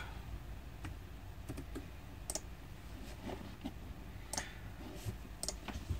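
Sparse, light keystrokes on a computer keyboard while a folder comment is typed in OpenMediaVault 3 software: quiet, irregular clicks over a soft background hum, with no talking.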